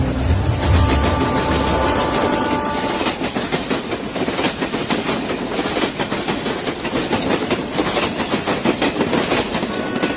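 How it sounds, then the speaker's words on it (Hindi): Animated sound effect of a train running on rails as it arrives at Pune station at night, a loud, steady, close rumble with a rapid clickety-clack rhythm throughout and a brief tonal hum near the start. "अब उसकी ट्रेन पुणे स्टेशन पहुंची है"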